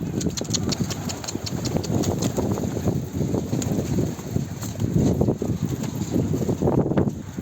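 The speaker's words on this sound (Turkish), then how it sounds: "Rüzgar izin vermiyor. Hiçbir şeye rüzgar izin vermiyor şu an." Gusty wind buffets the microphone with loud, rumbling bursts that rise and fall throughout.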